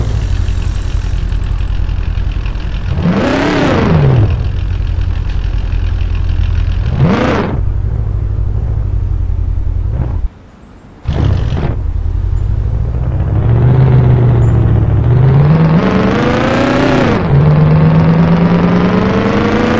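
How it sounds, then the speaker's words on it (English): A car engine in the Car Parking Multiplayer game, loud and steady, rising through several revving sweeps as it accelerates and drives, with a brief drop near the middle. "This car is so much louder"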